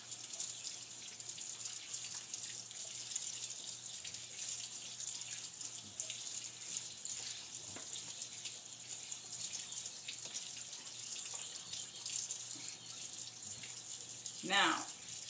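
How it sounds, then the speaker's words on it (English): Hands washed under a running kitchen tap while cooking breakfast hash and biscuits, a steady close hiss of water that runs throughout, with a brief splashy gush near the end. "Wash my hands real quick."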